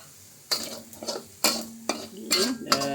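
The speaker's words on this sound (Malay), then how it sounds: "Okay, kita tumis dulu sampai garing." Ingredients for a potato and anchovy curry puff filling are stir-fried in a pan with crisp sizzling, while a utensil repeatedly scrapes and clatters against the metal in uneven bursts.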